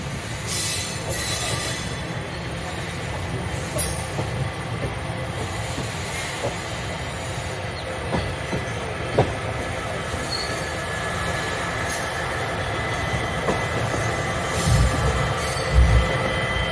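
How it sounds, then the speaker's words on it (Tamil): A train rolls slowly and steadily into Villupuram railway station with a continuous rumble, occasional wheel squeals and metallic clicks, heard from on board. "விழுப்புரம் ரயில் நிலையத்திற்குள்ள என்டர் ஆயிட்டோம்."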